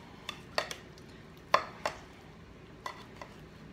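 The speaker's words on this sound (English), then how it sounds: "I am going to start with cutting the meat on" A knife slices cooked steak on the bias against a cutting board, giving a handful of sharp, irregular taps and scrapes close by, with quiet pauses between cuts and no talking.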